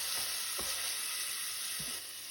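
Sautéed corn stirred in a pan, a close, steady frying hiss with a few soft thuds and scrapes of the utensil against the pan.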